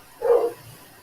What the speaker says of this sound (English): My dogs drive me nuts.